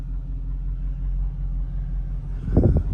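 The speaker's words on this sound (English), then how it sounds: "It just starts right up nice and easy and runs good." A Ford service truck with a 460 engine idles with a low, steady rumble, followed by a brief louder burst of engine noise near the end.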